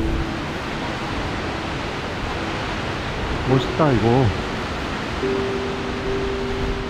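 Skógafoss waterfall in winter Iceland roars as a steady, broadband rush of falling water close by, with people briefly talking and exclaiming over it.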